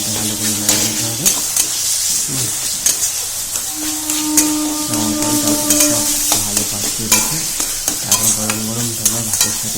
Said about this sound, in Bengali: এইভাবে কিছুক্ষণ নাড়িয়ে তাড়িয়ে নেওয়ার পরে বেশ ভালো করে নাড়িয়ে তাড়িয়ে ভালো করে বেগুনটা সব মিশে যায়